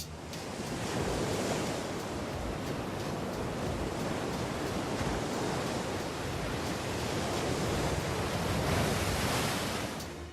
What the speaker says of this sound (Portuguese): As grandes ondas que atingem a costa são obviamente espetaculares e um pouco assustadoras.